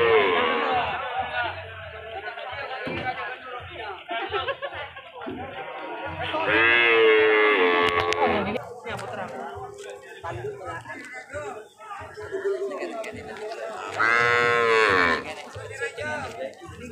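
Cattle mooing at an Indonesian livestock market, with two long, loud lowing calls rising over busy crowd chatter and people talking nearby.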